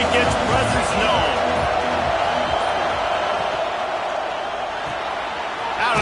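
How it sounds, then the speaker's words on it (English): A stadium crowd in a college football video game, Oregon at Michigan, keeps up a loud, dense, continuous roar with a few sharp thuds near the start. "This crowd ready to make its presence known."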